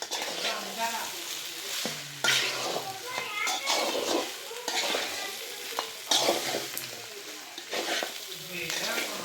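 A mushroom pepper dry frying in a pan is stirred repeatedly, with a steady sizzle and scraping strokes, while children's voices chatter in the background throughout.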